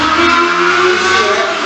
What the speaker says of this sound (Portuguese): da moto que acabou de passar aqui, que não foi planejado, né, e atrapalhou na gravação